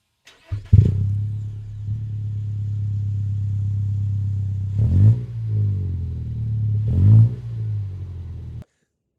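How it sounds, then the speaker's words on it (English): A 2025 Toyota Tacoma pickup's modified deep exhaust rumbles steadily at idle, then swells twice in short revs, each blip rising and falling before the engine cuts off. "It adds a perfect amount of deep tones in the exhaust note,"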